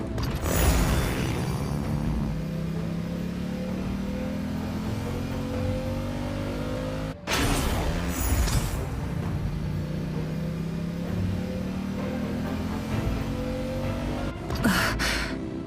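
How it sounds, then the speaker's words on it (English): Car engines rev in the video game Genshin Impact, two long rising engine roars that climb steadily in pitch, each starting with a loud burst, close and loud with no talk. "Rev the engines!"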